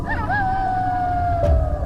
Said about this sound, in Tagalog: Umalulong rin ang alaga nilang aso